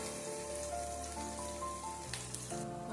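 Onions sizzle in hot oil in a pan while cooking for mutton biryani, a faint steady crackle resembling light rain beneath background tones, with a brief stirring clatter.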